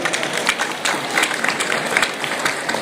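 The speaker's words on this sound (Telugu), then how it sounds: "అందరూ బాగుండాలి, బాగుందాం అనుకునేటువంటి వాళ్ళు ఒక 30 సెకండ్ల పాటు చప్పట్లు కొట్టాలి గట్టిగా" Dense rapid clapping from a crowd gathered at a Bathukamma festival celebration, steady and fairly close, with faint voices mixed in.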